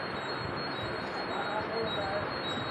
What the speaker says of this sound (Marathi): इकडनं एक फास्ट ट्रेन जाते आहे